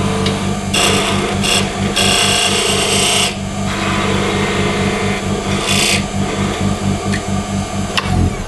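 Wood spinning on a lathe with a steady motor hum while a turning tool scrapes and rasps against it in repeated bursts, close and loud, cleaning up the top of a wooden BBQ spatula.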